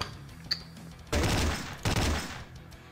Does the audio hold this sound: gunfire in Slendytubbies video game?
yes